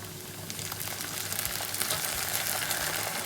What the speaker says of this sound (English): Now I'm going to add my 3 cans of chopped tomatoes.